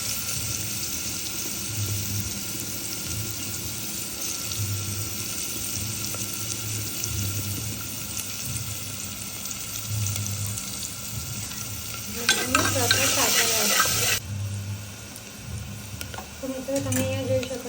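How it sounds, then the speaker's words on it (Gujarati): Onions sizzling and frying in hot oil in a pan, with curry leaves already in, a steady crackle that turns sharper and louder near the end as the pan is stirred. "આ ટાઈમે હું ડુંગળી નાખી દઈશ"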